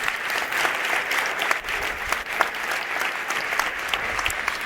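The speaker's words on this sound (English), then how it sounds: "I think they all deserve an applause for supporting this year's forum." A room full of people at a women in tech forum claps continuously, a full, even wash of applause that holds steady throughout.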